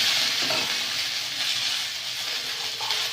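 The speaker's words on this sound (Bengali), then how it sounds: "দিয়ে দেবো আদা বাটা, দিয়ে ভালো করে কষিয়ে নেব।" Ginger paste fries in oil in a village kitchen, a soft continuous hiss of sizzling with faint stirring, fairly quiet and steady.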